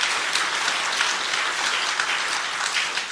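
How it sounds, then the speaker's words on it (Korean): A church congregation at a revival service applauds warmly, a steady, dense wash of many hands clapping at once for a few seconds with no speech. "야, 정말 아주 잘했다고 생각 들어가는 분은 뜨겁게 박수 한번 대줍시다"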